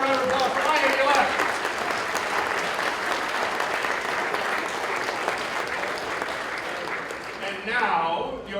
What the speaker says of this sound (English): one more round of applause for Ryan to your left